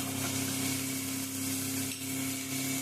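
Mutton pieces sizzle steadily in a hot pan with turmeric, a continuous close frying hiss with faint stirring through the clip and a low steady hum underneath.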